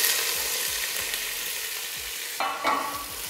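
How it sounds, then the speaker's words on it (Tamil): Three large onions, sliced lengthwise, fry in hot oil with spices for chicken biryani, giving a steady, close sizzle broken by soft scraping from stirring. "வெங்காயம் சேர்த்து நல்லா வதக்கிடலாம்."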